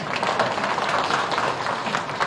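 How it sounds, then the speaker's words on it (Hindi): Audience applause at a live public event addressed by a politician: dense, steady clapping from a crowd that fills the whole short stretch at moderate loudness, with no clear speech over it. "अब इस बात को ताली तो बजा दीजिए जोर से।"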